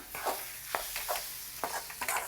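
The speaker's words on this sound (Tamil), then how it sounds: "அப்படியே பிரட்டிட்டு இறக்குவோம்" Sambal cooked in sesame oil being stirred in a pan, a steady sizzle with repeated scraping strokes of a spoon at an even rhythm, close and fairly loud.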